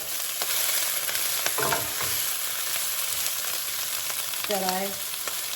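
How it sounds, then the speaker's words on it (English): Collard greens, Brussels sprout leaves and bean sprouts sauté in a pan for egg rolls, giving a steady close sizzle with scraping stirs, while a voice speaks briefly. "I'm going to saute this a little bit to get this stuff going."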